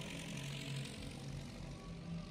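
A propeller airplane engine drones faintly and steadily in a Twisted Metal Black video game cutscene, a continuous low hum with no voices.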